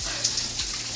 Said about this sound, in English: Time for a little shower before a sundowner, and the shower even has side jets